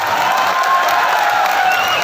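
Loud, continuous audience applause fills the room at a comedian's live stage show, holding steady and unbroken throughout.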